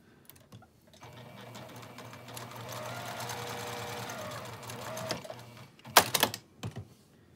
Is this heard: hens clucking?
no